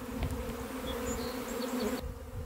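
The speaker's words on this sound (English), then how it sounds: "But I'm just surrounded in bees." A swarm of honeybees buzzing all around at close range, a steady layered hum with individual bees flying past; no voices.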